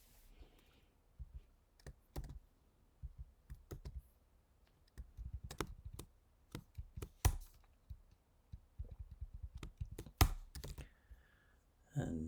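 Code being typed by hand on a computer keyboard, with irregular bursts of clicking keystrokes broken by short pauses, close and fairly quiet, with no talking.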